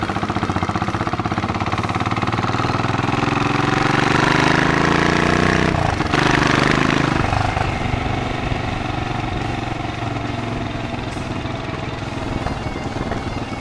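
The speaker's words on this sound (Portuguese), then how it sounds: "A partida da moto é uma pancada" A Savage 650 custom motorcycle with a single-cylinder engine runs steadily nearby, its loud, continuous rumble holding throughout with a brief dip and shift in tone midway, and no talking over it.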